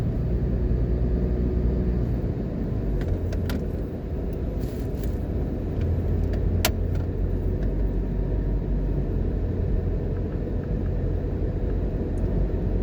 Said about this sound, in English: Today we're driving into the town of Montego Bay